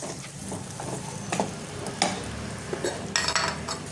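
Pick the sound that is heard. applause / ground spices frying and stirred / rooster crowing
ground spices frying and stirred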